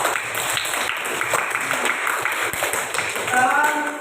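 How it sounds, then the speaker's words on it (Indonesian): A classroom group of students claps in applause for the second group during an Islamic ethics lesson, a steady dense patter of many hands lasting throughout, fairly close, with some voices mixed in. "Mari kita berikan aplaus untuk kelompok 2."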